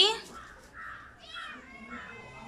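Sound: cat meowing

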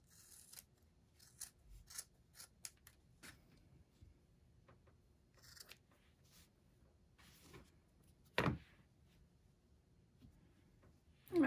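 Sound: scissors trimming long excess hairs

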